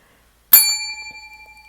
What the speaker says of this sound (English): I will ring the bell for this